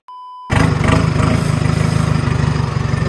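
A tractor engine starts up close and loud after a short steady tone, then keeps chugging with a rapid, even diesel beat throughout.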